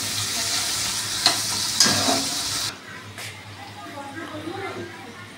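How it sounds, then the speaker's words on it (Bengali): Potatoes and onion frying in a pan for a soya chunk dish, a bright sizzle with a few spatula scrapes that drops abruptly halfway to a quieter crackle as stirring continues and a voice speaks. "দিয়ে এবার আলুটা খুব করে ভাজা করে নেবো"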